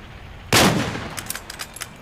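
A single loud, close gunshot blast from the video game Metal Gear Solid 4: Guns of the Patriots, with a decaying tail and scattered fainter clicks and impacts afterward.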